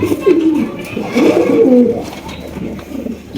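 A red checker racer pigeon coos in a few low, throaty rolling phrases, close and fairly loud, with a faint murmur of background noise.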